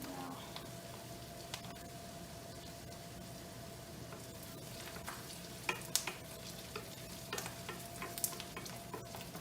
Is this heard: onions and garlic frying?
yes